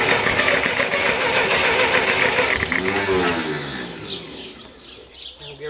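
A Massey Ferguson 65 tractor engine runs loud and steady close by, a dense mechanical drone that eases slightly in level toward the end, with no voices over it.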